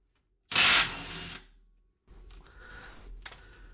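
A 17 mm wrench loosening the nut on a Whiteline 20 mm adjustable rear sway bar bracket on a 2018 Subaru Forester: a loud, close rasping ratchet burst, then a pause and lighter metallic clicks.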